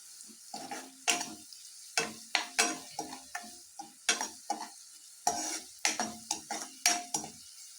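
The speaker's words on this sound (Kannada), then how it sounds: "ನೋಡಿ, ಈರುಳ್ಳಿ ಚೆನ್ನಾಗಿ ಫ್ರೈ ಆಗಿದೆ" Onions frying in a pan for a hotel-style mushroom masala, stirred with a utensil in a steady run of distinct scraping strokes over a soft sizzle, close and fairly loud, with no talking.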